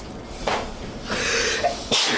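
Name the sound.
sneeze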